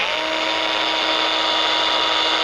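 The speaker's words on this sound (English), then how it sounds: "we'll drill a pilot hole first" A power drill bores an eighth-inch pilot hole in a lugged bicycle frame at close range, a continuous high-pitched grinding drone with no pauses.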